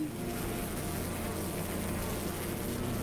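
Bees buzzing in the video game The Hundred Line, a steady close drone holding at an even level throughout with no voices over it.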